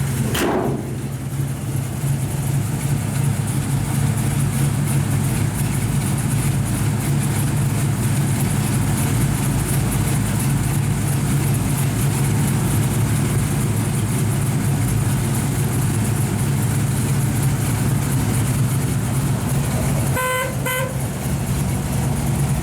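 A 1955 Chevrolet 3100 pickup idles with its 350 V8, bumpy camshaft and dual exhaust, a steady, loud, close rumble that runs unbroken, with a brief sharper blip near the end.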